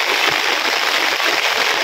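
Heavy rain rushes steadily nearby, a loud, even hiss with faint patters running through it.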